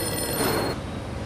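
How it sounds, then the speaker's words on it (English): A telephone rings in a cartoon horror scene, one steady electronic ring that fills the moment and then fades. No voices are heard. "The phone will ring."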